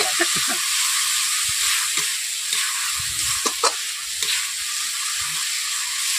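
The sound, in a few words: stir-frying spice paste in a wok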